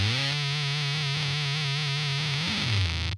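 Sustained distorted electric guitar loop repeating through a TC Electronic Ditto Plus looper pedal, a steady held tone with wavering modulation and a pitch bend near the end, loud and continuous with no voices.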